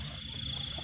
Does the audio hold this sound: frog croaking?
yes